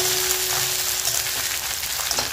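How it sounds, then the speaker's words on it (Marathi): Dried fish fry on a slow flame, giving a dense, steady crackling sizzle that fills the whole stretch, close and fairly loud, with small pops scattered through and no voices. "मंद गॅसवर म्हणजे स्लो फ्लेमवर हे मासे मस्त फ्राय करून घ्यायचे"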